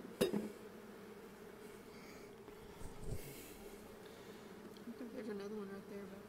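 A low, steady hum of honeybees buzzing around an open hive as a new bee emerges, quiet and close, with a few faint clinks and a soft snort-like noise.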